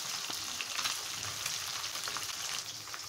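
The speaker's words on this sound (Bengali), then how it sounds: "আমার মাছগুলা ভাজা হয়ে গেছে" Fish frying in a pan, a soft continuous sizzle and spatter, fairly faint and even with no voices over it.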